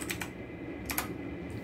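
Keys clatter on a computer keyboard as a fastboot command is entered, two quick close bursts of clicks separated by a short pause.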